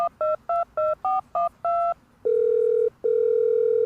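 A telephone keypad dials a number, seven quick evenly spaced dual-tone beeps, then two long steady ringback tones separated by a brief gap, clear and loud.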